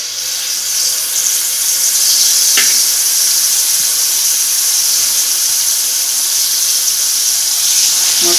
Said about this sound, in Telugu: ఇప్పుడు ఇది ఆయిల్లో ఫ్రై చేసుకోవాలి.